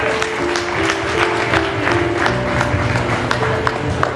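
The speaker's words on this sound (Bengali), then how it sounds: "এটা নারীদের জন্য পুরুষেরা করতালি দেয়।" Clapping from men in the audience at a spiritual family camp sermon, a dense steady wash of applause with a faint tonal hum running underneath throughout.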